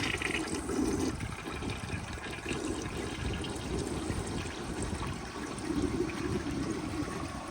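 A 1996 American Standard Cadet toilet flushes weakly without enough water to siphon, making a faint, steady rush and trickle of water that runs continuously without a strong surge.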